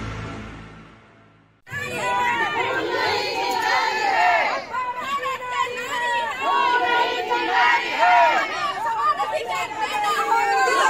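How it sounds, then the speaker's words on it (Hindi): A large, dense crowd of protesting ASHA and anganwadi workers gathered from across the country on the street, loud continuous chatter and shouting that starts abruptly and persists, close and crowded. "ये जो आज भीड़ आई हुई है यहाँ देश भर से"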